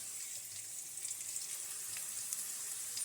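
Potatoes frying in a pan in a home kitchen as chicken is being cooked, a steady, faint high-pitched sizzle with soft crackles, continuous and alone without talk.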